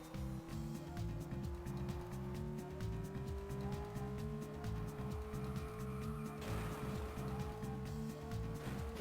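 Lamborghini in the Asphalt Urban GT racing game, its engine holding a steady, slowly rising drone with a pulsing low rumble throughout, loud and continuous.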